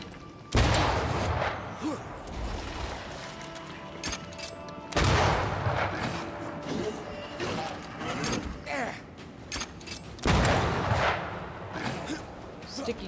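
Gunfire in the video game Banishers: Ghosts of New Eden comes in three loud bursts of heavy shots, each followed by decaying rumble, with someone talking between the volleys.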